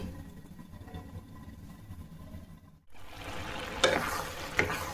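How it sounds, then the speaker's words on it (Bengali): Jaggery is stirred into simmering carrot halwa in a pan, giving a quiet bubbling and low background hum, then louder scraping and spoon strokes near the end. "গুড়টা দিয়ে আবারও ভালো করে নেড়ে দেবো"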